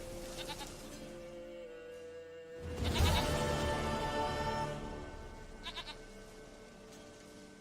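A goat bleats in The Witcher 3, with a few faint cries early and then one loud, wavering bleat close by amid quiet game ambience.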